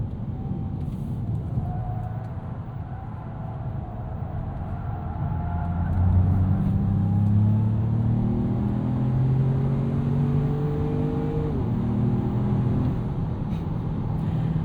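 A 2025 Ford Maverick Lobo turbocharged compact truck driven hard into a corner on a public street, its engine drone rising and falling in pitch under steady road and tyre noise, heard from inside the cabin.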